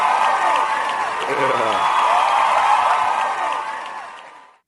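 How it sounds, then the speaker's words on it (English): An audience applauds a debate guest at a live event, sustained loud clapping and some cheering that gradually fades out, with a voice speaking briefly over the applause. "let's give him a round of applause"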